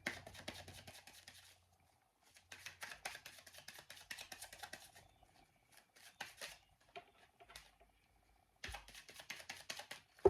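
Cards are shuffled in several bursts of quick riffling and tapping, separated by short pauses, close and fairly quiet.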